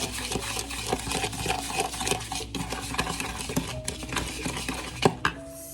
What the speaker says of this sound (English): Just stir it together